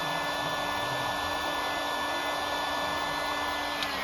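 A heat gun blows continuously while shrinking heat-shrink tubing over a soldered wire on a 1961 Impala's TBI wiring, giving a steady, close, airy roar with a faint whine throughout.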